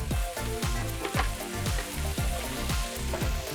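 Onions and peppers sizzling in butter and oil in a pan, a dense steady crackle and hiss with repeated scraping stirs at a quick rhythm, close and moderately loud with no talking.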